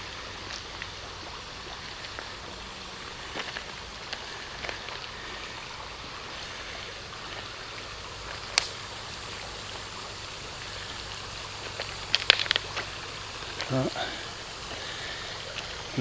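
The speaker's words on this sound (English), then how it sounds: "Whenever I see rushing water like this" A city trail stream rushes in a steady, low, continuous wash, fairly faint and constant, with a few scattered clicks and knocks on top.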